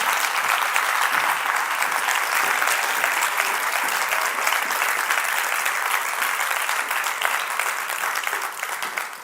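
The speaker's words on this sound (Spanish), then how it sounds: "Un aplauso, Baba." A large audience at a women's event applauds steadily to welcome a speaker, dense sustained clapping that stays loud throughout and eases off only at the very end.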